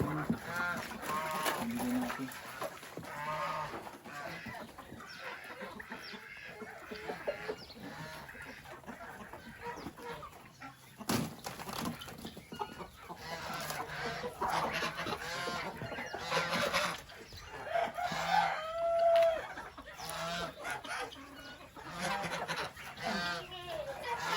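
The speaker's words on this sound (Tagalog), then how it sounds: "dito na tayo sa manukan at papakainin natin" Chickens cluck and squawk in a poultry house at feeding time, a dense and busy flock noise that carries on throughout, close and fairly loud, with some faint talk mixed in.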